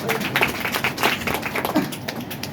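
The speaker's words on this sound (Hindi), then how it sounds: "जोरदार ताली बजाइए, बजाइए" A crowd claps together in a busy, uneven burst, with some chatter mixed in under the applause throughout.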